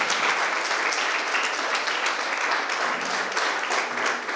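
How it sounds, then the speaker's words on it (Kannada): A hall audience at a Social Work Day prize ceremony applauds a second-place winner, dense, even clapping from many people that holds steady and fairly loud throughout. "ಚಪ್ಪಾಳೆ ಹೊಡಿಬೇಕಾಗಿದೆ."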